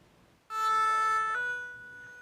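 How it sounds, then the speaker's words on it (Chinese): An ambulance siren rushes to the site of a deadly garbage-mountain collapse in West Africa, a loud wailing tone bursting in abruptly after near silence and holding steady before easing slightly. "救护车赶去事发的地点"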